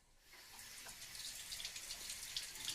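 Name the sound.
water running from a sink tap, rinsing fresh crab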